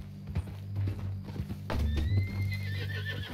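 A horse in a video game whinnies and snorts while hooves clip-clop steadily beneath, the mount carrying a tied-up captive, with close, clear hoofbeats and a bright neigh rising near the end.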